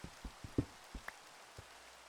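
Soft rain in the Minecraft world, heard as a handful of quiet, scattered drop taps over a faint hiss, with no talk.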